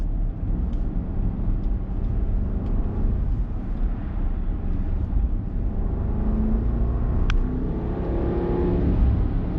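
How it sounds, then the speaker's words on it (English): A Bentley Bentayga extended-wheelbase SUV in sport mode gives a deep, steady engine rumble that swells as it accelerates, heard from close by with no talking. "we got the Bentley Bentayga in sport. Let's see how it sounds"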